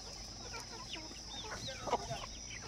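A village rooster clucks faintly among a backyard flock, with a few soft, scattered calls and one slightly louder cluck near the end, set against a quiet, steady hiss.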